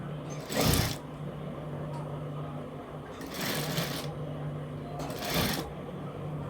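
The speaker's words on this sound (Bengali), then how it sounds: "এখান থেকে আবার সেলাই ধরলাম। এই সেলাইটার সঙ্গে সঙ্গে আগে যে সেলাইটা দিয়েছিলাম এটার সঙ্গেই যাবে।" A sewing machine stitches a shirt collar in three loud, short bursts about two seconds apart, close by, with a steady low motor hum between the runs.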